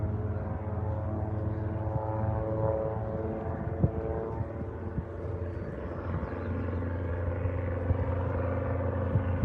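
Steady droning hum of a Harbour Air de Havilland Beaver floatplane, continuous and fairly loud, with a low rumbling tone holding throughout.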